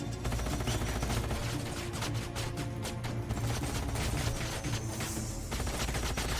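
Sustained gunfire in Age of Wonders: Planetfall, a dense fusillade of rapid overlapping shots with mechanical clatter, loud and continuous throughout with a low rumbling bed beneath.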